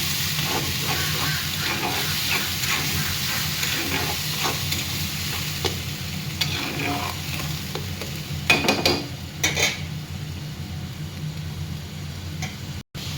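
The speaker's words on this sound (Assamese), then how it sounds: "এতিয়া মই পেষ্ট কৰি থোৱা মছলাখিনি দি দিছোঁ তেলত। এতিয়া মই লৰাই দিছোঁ।" Ground masala paste sizzles and fries in hot oil with raisins and browned onions for a fish curry, a steady frying hiss with scraping stirs and a few louder clatters near the end, no talking.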